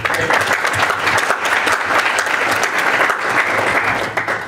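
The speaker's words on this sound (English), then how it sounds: "We'll give him a round of applause for it." A round of applause from the audience at an entrepreneurs' roundtable event in New York, dense and steady clapping that stays loud throughout, with no voices over it.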